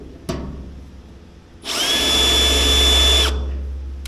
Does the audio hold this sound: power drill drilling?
yes